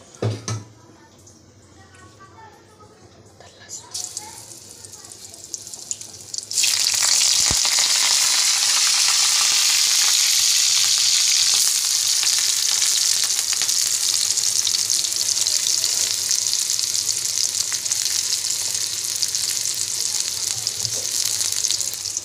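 Oil heats in a kadhai (wok) for dried bombil fish curry: quiet handling noises at first, then a loud, dense, continuous frying hiss takes over and holds steady to the end.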